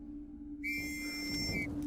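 A single shrill whistle blast sounds for about a second as the signal for soldiers to go over the top at the Battle of the Somme, 1916, set over a low steady hum.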